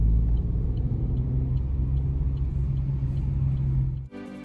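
Opel Corsa rental car driving, a steady engine and road rumble close by, continuous and fairly loud, cutting off abruptly near the end.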